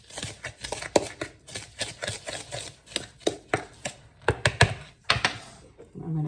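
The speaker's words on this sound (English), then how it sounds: "So now we just need to mix this up." Dry ranch dressing mix with cumin and chili powder being stirred by hand, a quick run of soft clicking, scraping taps close by, uneven in rhythm and heard alone.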